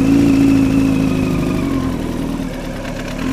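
A motorcycle engine idles steadily and loudly nearby, a smooth continuous rumble that eases off slightly in pitch and level over a few seconds, with no one speaking.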